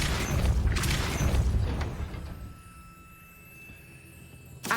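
A Depulso spell blast in Hogwarts Legacy: a loud, booming whoosh that rumbles for about two seconds, fades into a quieter hum, then ends with a short sharp burst.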